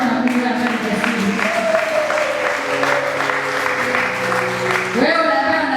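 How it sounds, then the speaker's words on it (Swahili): A church congregation claps during a Swahili sermon, with dense, steady applause running throughout and a voice speaking and calling out over it. "Hebu mpigie Yesu makofi Bwana Mungu atakatifu"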